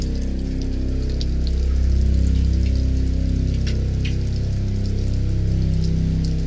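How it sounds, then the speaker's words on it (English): Steady patter of dime- to quarter-sized hailstones striking surfaces, a dense rattling shower close by with a low rumble underneath. "Look at all that hail."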